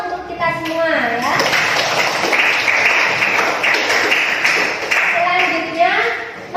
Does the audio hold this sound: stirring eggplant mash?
no